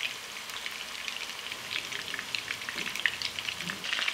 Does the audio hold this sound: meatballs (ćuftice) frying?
yes